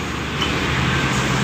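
A bus from an ANS bus convoy passes on the road, a broad steady roar of engine and tyre noise that stays loud and even through the short moment, with no voices.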